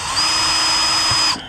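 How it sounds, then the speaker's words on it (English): A DeWalt cordless power drill whines at a steady high pitch for about a second, close and loud, then stops abruptly. "I'm gonna have to take my DeWalt drill and kind of drill a little bit here"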